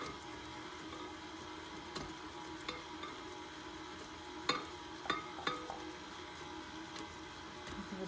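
A spatula scraping very thick molasses into a mixing bowl for ginger snap cookie dough, with a faint soft scraping bed broken by several sharp clicks and taps against the bowl, close and quiet.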